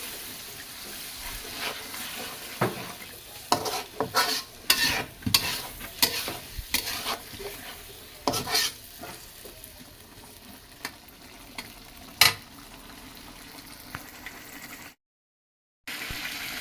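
Stirring and frying in a pan for a tengra fish curry with beans and tomato: repeated spatula scrapes and clanks over a steady sizzle, loud and close, with a brief full silence near the end.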